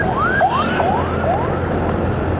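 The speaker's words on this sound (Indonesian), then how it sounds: "ada ambulan" An ambulance siren wails in repeated rising sweeps at a moderate distance over steady road traffic noise on a drive toward a tea plantation.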